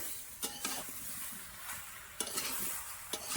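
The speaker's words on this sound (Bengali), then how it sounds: "তোমরাও সময় নিয়ে আমগুলোকে একটু উল্টে পাল্টে ভেজে নেবে" Mango pieces for homemade pickle fry quietly in a pan with turmeric powder, a low sizzle broken by a few sharp stirring scrapes, faint and without talk.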